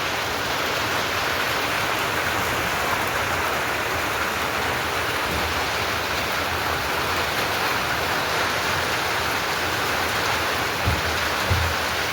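Heavy monsoon rain pours down in a steady, dense roar with gusting wind, broadband and unbroken, with a couple of brief low knocks near the end and no voices.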